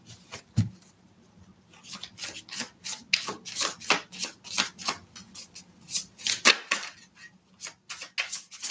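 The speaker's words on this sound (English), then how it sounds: "One more shuffle." Tarot cards being shuffled close up, a rapid run of crisp riffling and soft slapping bursts in an irregular rhythm, with no talking.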